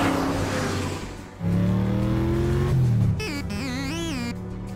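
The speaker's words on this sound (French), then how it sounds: "tu es très agréable à conduire, Bumblebee. Puissant, rapide et souple." Cartoon car Bumblebee from the animated Transformers Rescue Bots revs loudly, its engine pitch climbing and sliding in waves, then giving way to a higher, wavering synthetic whine near the end.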